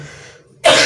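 One sudden, loud, harsh cough bursts out near the end after a short quiet stretch, close to the microphone during a Hindi-language physics lesson.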